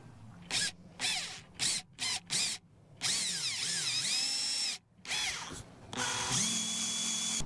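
Power drill boring a hole through the roof of a 2022 Winnebago Revel camper van, loud whining bursts in short stop-start pulses, then a longer sustained run with pitch sweeps as the bit cuts through.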